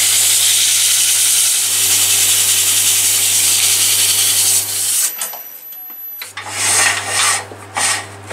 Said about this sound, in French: Maintenant on va remettre sur le tour pour pouvoir poncer.